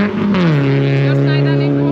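Rally cars on a Finnish national championship rally stage at the Mad-Croc Länsirannikon Ralli, a loud close engine drone holding a steady pitch after a brief downward shift, with a voice speaking over it.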